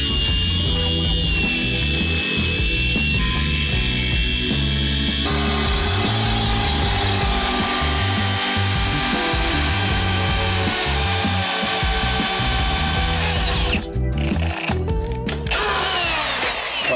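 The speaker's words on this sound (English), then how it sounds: "So I drilled all the holes almost until it starts grabbing." A loud power drill whines and grinds continuously while drilling holes in metal on a 1955 Chevy, its pitch shifting as it bites into hard material, running steadily the whole time.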